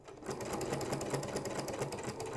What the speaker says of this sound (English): I'm gonna try to sew this back and see what happens